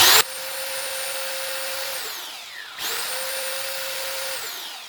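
Parkside PBSD 900 A2 belt sander running with a steady, loud motor whine and belt hiss, briefly easing off and dipping in speed before revving back up.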